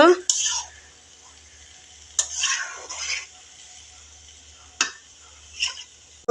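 A spoon stirs a bottle gourd and fish ghonto in a pan, giving a few separate scraping strokes and clinks against the metal with quiet pauses between them, close and distinct.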